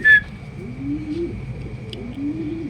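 Racing pigeons coo softly and repeatedly, close by and low-pitched, after a short sharp chirp at the start, with a faint steady whistle-like tone in the background and no talk.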